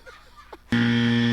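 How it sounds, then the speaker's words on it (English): A game-show style buzzer blares suddenly after faint background chatter at a kids' club trivia game, a loud steady electronic drone held to the end. "That would be a buzzer."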